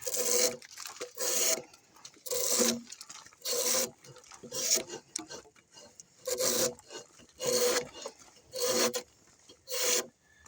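A drawknife scrapes bark off a log in about ten rhythmic rasping strokes, each a loud, close, coarse pull separated by short quiet pauses.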